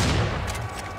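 Gunfire from the shooter game Serious Sam 4: a short, loud burst of booming shots with a dense low rumble and a couple of sharp cracks trailing off, lasting about a second, no talking.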